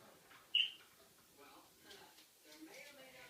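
A smoke alarm gives one short, high chirp when its test button is pressed. Quiet, murmured speech follows in a hushed room.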